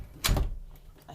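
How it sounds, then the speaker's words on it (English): A faulty door whose screws no longer grip moves with a brief, close thump and rattle, then faint knocks trail off in a quiet room. "thought I had fixed my door."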